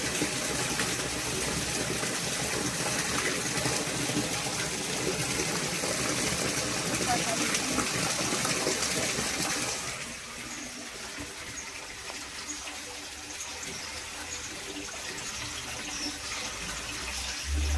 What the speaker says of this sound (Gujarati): ટાંકામાં નળ ચાલુ છે ને બાજુમાં નળ ચાલુ છે.